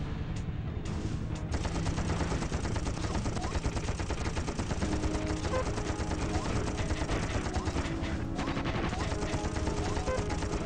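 Rapid, dense machine-gun fire and explosive missile blasts from a video game, continuous and loud throughout, with only a brief quieter gap near the start.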